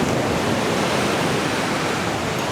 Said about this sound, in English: This is a nice wide beach.